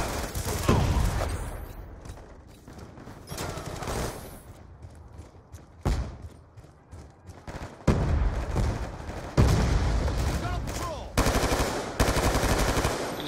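Bursts of automatic gunfire from the Call of Duty Black Ops 2 video game crackle in repeated loud volleys separated by short quieter gaps, with rapid machine-gun rattles dominating throughout.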